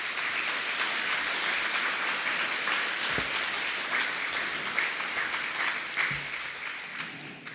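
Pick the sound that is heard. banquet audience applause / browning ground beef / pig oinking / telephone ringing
banquet audience applause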